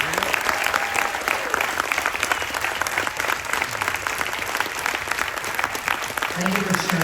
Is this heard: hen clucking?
no